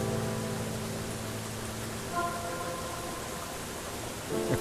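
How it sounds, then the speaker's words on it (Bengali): Water of a river flows steadily through a shaded spot in the Ayodhya hills, a soft continuous wash heard at moderate distance with no talking over it. "এত মিষ্টি নদীর শব্দ"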